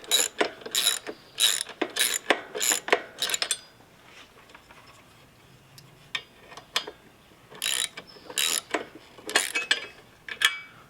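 Ratchet wrench clicking in short bursts while valve cover bolts come out of a Toro Timemaster mower engine, close up, with quiet pauses and a few faint metal taps between the runs of clicks.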